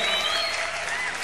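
A live concert crowd cheers for a band with a brief, loud burst of thick applause and some whistling that runs from start to finish.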